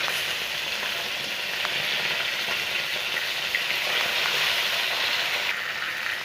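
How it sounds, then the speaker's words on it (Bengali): Fish pieces fry in a pan of oil, giving a loud, continuous crackling sizzle that holds steady without a break, with faint clicks scattered through it. "মাছগুলো একটু ভাজা হয়ে গেছে, এবার এগুলোকে উল্টে দিয়েছি।"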